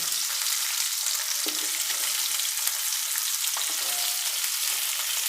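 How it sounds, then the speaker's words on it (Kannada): Onions and tomatoes fry in a pan for a country-style chicken curry, giving a constant loud close sizzle with faint stirring clinks and no talk. "ಈಗ ನಾನು ಈರುಳ್ಳಿನೂ ಸೇರಿಸ್ತಾ ಇದ್ದೀನಿ ಟೊಮಾಟೊನೂ ಸೇರಿಸ್ತಾ ಇದ್ದೀನಿ"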